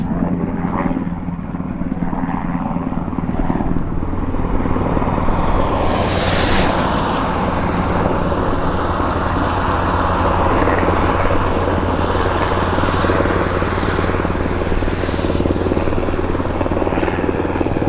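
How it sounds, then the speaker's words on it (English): A U.S. Army Black Hawk helicopter arrives at Abbotsford Airport, its rotor and turbine roar loud, steady and close for the whole stretch, swelling slightly as it nears, with no talking over it. "U.S. Army Blackhawk making its appearance here at Abbotsford Airport"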